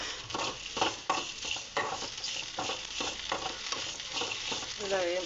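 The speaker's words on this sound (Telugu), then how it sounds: "ఇలా వేయించుకోవాలి." Peanuts with cumin and salt roast in a pan, a steady dry sizzle and crackle broken by repeated scraping stirs, close and fairly loud, with no talking.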